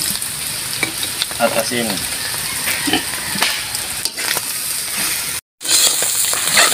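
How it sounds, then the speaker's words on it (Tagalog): Pork offal sautéing with garlic and ginger for a provincial-style dinuguan, a loud steady sizzle with spatula scrapes and stirring, a brief pause, then more frying; a voice speaks briefly. "Okay, habang ginigisa po natin, maglalagay po ako ng pamintang durog"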